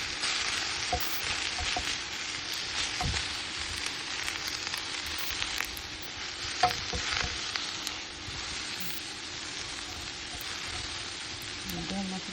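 Steak and mushrooms grilling on a grill pan, a steady hissing sizzle with scattered pops throughout, close by, with some background speech.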